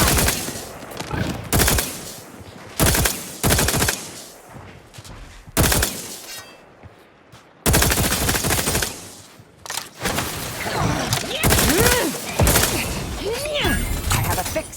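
Wrist-mounted weapon firing in The Outer Worlds, loud bursts of sci-fi gunfire in rapid clusters broken by short pauses, with game effects and sweeping electronic tones around them.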